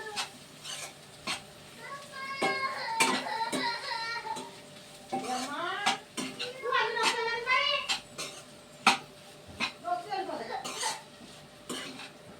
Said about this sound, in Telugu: ఒకసారి అన్నిటికి ప్రాన్స్కి మంచిగా ఉప్పు కారం పట్టేలా కలుపుకోవాలి.